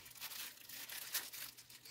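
A small plastic bag of guitar restoration parts is handled and crinkled close by, giving quiet, irregular rustling and crackling with one sharper crinkle midway.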